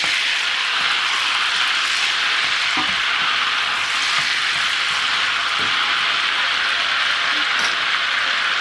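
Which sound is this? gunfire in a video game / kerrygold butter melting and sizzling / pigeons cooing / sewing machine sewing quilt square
kerrygold butter melting and sizzling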